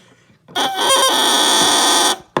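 A double reed is blown on its own to make a crow: a loud, bright, buzzy sustained squawk lasting about a second and a half, close up, cutting off abruptly with a short blip afterward.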